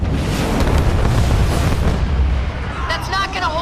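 Archer missile strikes in the video game Halo Wars 2 produce a dense, loud roar of continuous explosions and rumbling blasts, easing slightly near the end as a voice briefly comes in over the din.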